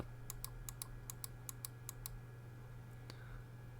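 About ten quick, sharp clicks of a Logitech G Pro Wireless gaming mouse's side buttons in a steady rhythm, close by, followed by a single click after a pause, all over a faint electrical hum.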